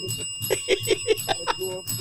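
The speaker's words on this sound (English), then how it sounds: "You got the curse bell on?" A small hand bell, called a curse bell, rung in a quick series of bright metallic dings, close and fairly loud, with no talking over it.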